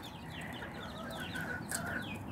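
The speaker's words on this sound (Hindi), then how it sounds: "वो जो चूजे हैं ना 2 दिन के हैं" Two-day-old chicks cluck and cheep steadily while being fed, a close continuous chorus of small bird calls with no talking.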